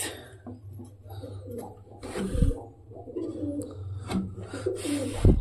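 Madras, Paschima and Kalasabuj breed pigeons coo softly in low, rolling calls, repeated several times at close range, with light rustling and scuffing between them.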